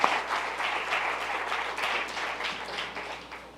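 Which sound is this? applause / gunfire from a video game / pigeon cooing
applause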